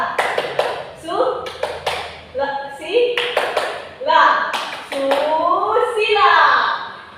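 A classroom of children in Indonesia performs tepuk susila, a patterned rhythmic clapping routine of sharp, close hand claps in bursts, mixed with the teacher's and pupils' voices chanting along.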